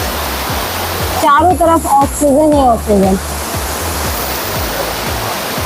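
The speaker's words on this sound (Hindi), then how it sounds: "दूध जैसा बहता ये झरना" Waterfall flowing through a forest, a steady broadband rush of falling water filling the whole span, with a person speaking briefly over it midway.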